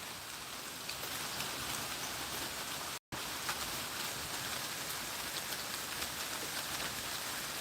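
Steady rain falls outdoors during a walk, a dense, even hiss of drops on surfaces that runs throughout, cutting out for a brief moment before resuming at the same level.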